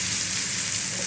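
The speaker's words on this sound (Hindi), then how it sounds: "ऑयल हमारा गर्म हो गया है, इसमें हम प्याज ऐड करेंगे" Chopped onions sizzle in hot oil for a garlic-ginger tarka for masoor dal, a steady close hiss with no talk.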